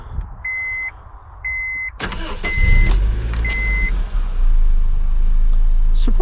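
Honda Civic 1.8 engine cranking and starting, then settling into a quiet, smooth idle, heard close up. A door-open warning chime beeps repeatedly before the start, and a brief click sounds near the end.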